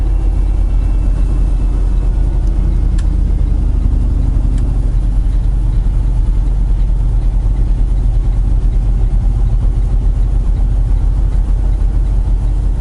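A truck engine pulls steadily in 6th gear at about 1500 RPM, a loud, continuous low drone heard from inside the cab for the whole stretch with no talking.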